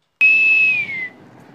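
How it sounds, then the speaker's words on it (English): A single sustained mouth whistle, steady in pitch and then dropping slightly as it fades, loud and near with quiet around it. "whistle by mouth"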